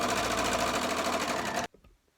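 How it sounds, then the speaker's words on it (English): A domestic sewing machine stitches a pocket seam on scrubs, a loud, fast, even mechanical whirr running close by for under two seconds before stopping abruptly. "So that's my pocket sewn in."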